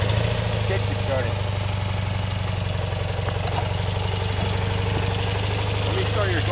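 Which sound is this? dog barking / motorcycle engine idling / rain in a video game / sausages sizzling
motorcycle engine idling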